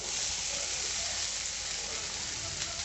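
Grated potato and soaked sabudana frying in hot oil for sago khichdi, a dense steady sizzle that stays loud and continuous throughout, close up, with no pauses.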